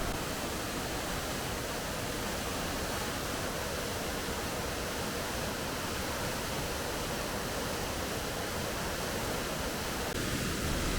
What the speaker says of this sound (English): listen to the water cascading down with roaring power